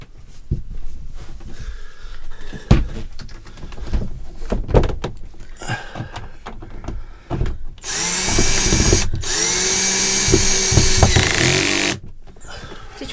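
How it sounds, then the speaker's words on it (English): A power drill drives screws in repeated short bursts, followed by a longer sustained high whine, close and loud, with thumps, handling noises and occasional talk in between. "So screws going in here,"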